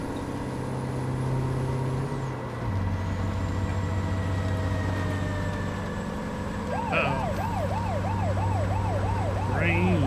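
A wailing emergency siren sounds over the steady engine drone of a truck in American Truck Simulator, its pitch sweeping up and down in quick regular cycles in the latter half, with a brake hiss and engine note change early on.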